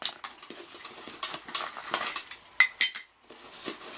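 Metal clinks and rattles from a camping spork and a Stanley cook pot kit being handled, with several bright clinks close up among steady rummaging noises, with no talk.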